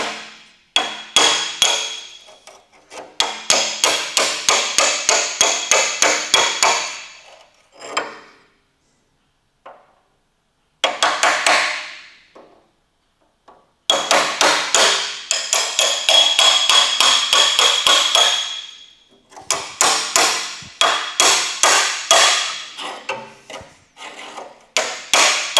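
Slitting chisel hammered through spot-welded sheet metal on a rusty panel: loud, ringing metallic strikes in fast rhythmic bursts, separated by short pauses.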